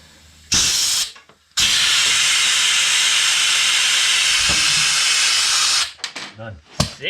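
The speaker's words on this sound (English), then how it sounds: "This is a step where I burn the paint off with the heat gun." Heat gun blowing hot air to burn paint off a BMW HP2 motorcycle part, a loud, steady broadband hiss that starts briefly, cuts out, then runs continuously for several seconds before sputtering off.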